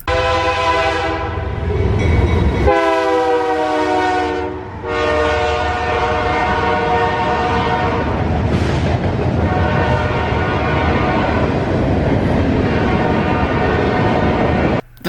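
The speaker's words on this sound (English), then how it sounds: "The next train I would see after this would be another eastbound with a Dash 9 leading, an ES44 second, a 2-4 GEVO third," An eastbound freight train rolls past with a GE Dash 9 locomotive leading, its horn blasting loud and sustained over the steady rumble and clatter of the cars, with a brief break in the horn partway through.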